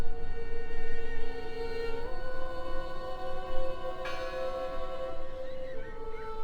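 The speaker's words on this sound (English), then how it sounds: "Listen! The bell!" Church bell in the video game Draugen, a sustained ringing tone with shimmering overtones that shifts and rings again partway through, heard alone without talk.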